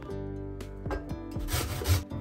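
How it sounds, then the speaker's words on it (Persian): Onion grated finely on a grater for pan kebab, brisk rasping scrapes in quick strokes, close and fairly quiet over a steady background hum, with no talk. "یک عدد پیاز داریم، رنده ریزش میکنیم"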